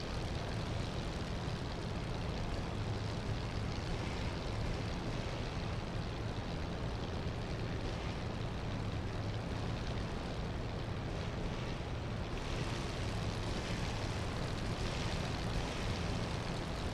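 A Spitfire Mk. IX's piston engine drones loudly and continuously in a flight game, a dense unbroken roar close up with no pauses and no talking.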